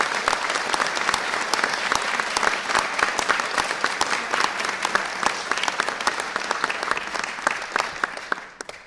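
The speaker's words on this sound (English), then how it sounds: "how about a round of applause for former Representative Gabby Giffords" An audience at a bill-signing event for an assault weapon ban gives a sustained round of applause, dense steady clapping from many hands lasting several seconds before fading at the end.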